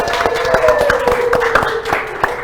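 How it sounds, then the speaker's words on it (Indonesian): Audience clapping for the winning team on a quiz show, a short, moderately loud burst of brisk, fairly sparse claps from a small group, steady throughout, with a tonal hum running underneath. "Tepuk tangan untuk tim A"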